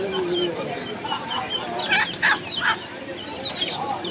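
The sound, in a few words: chickens and roosters clucking at poultry market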